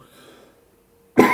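A lecturer gives a single sharp, loud cough close to the microphone, following a brief stretch of near silence.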